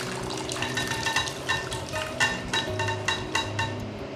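Pressure-cooked beef tipped and stirred into frying masala in a pan for Kerala-style beef curry, a close, steady wet clatter of spoon on metal with repeated scraping and soft sloshing strokes, with no voices.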